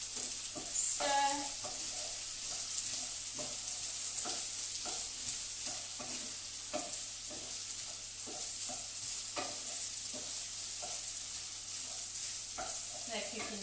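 Carrot, potato and onion fry in butter in a pan with a steady sizzle, broken by intermittent scraping and knocking as the vegetables are stirred.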